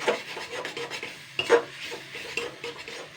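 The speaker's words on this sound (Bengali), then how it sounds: "নেড়ে নেবো, মশলাটা পুড়ে না যায় তার জন্য আঁচটা কিন্তু কমিয়ে দিতে হবে" Maggi masala spices are stirred in a pan on low heat for potato filling, soft scraping and rubbing strokes in an uneven rhythm, close and moderately quiet.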